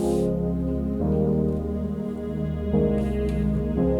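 Warm, layered synth pad samples in Logic Pro hold sustained chords that shift every second or so, steady and smooth with soft airy texture on top, no voices.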